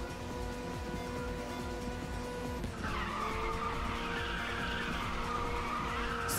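Tires squeal in a long, steady screech as a car drifts in Ridge Racer 6, the sound swelling and brightening halfway through over a constant racing-engine drone, with no talking.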